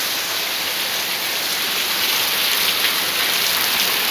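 Heavy rain pours steadily in Jaffna, a dense, even hiss of drops striking surfaces, loud and unbroken throughout with no voices.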